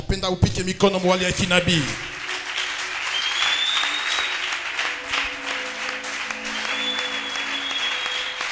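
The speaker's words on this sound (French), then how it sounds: "J'aimerais que tu acclames d'une manière prophétique." A church congregation at a Pentecost service breaks into loud, sustained applause and cheering, with a voice briefly at the start before the clapping fills the room evenly for several seconds.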